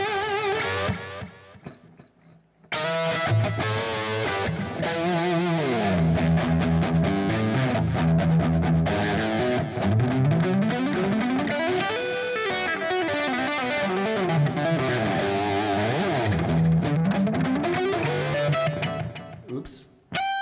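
An electric guitar on its bridge pickup runs through distortion effects, giving a bright, gritty overdriven lead with sliding, bending runs that start after a short quiet pause and play loudly to the end.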